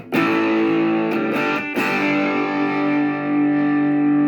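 A distorted electric guitar chord through a Boss DS-1W distortion pedal rings out loud and sustained, with a couple of quick re-strikes early before it holds and slowly fades.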